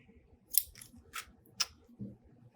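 Scissors snip through yarn while a pom-pom is made, a few crisp close cuts spaced irregularly with quiet handling between them and no voice.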